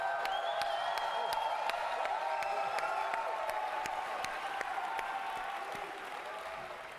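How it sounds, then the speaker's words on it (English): A large crowd at an esports event cheers and applauds continuously, a dense roar of clapping and whoops with scattered sharp claps, fading slightly toward the end. "They're just going to keep cheering."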